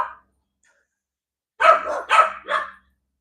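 Dog barking in three quick, loud, close barks after a brief earlier yelp, with silence between.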